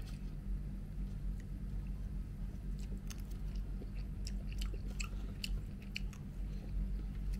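Close, wet chewing of a Thai oyster during a mukbang, soft squishy bites and mouth sounds repeating over a constant low hum, with no talking.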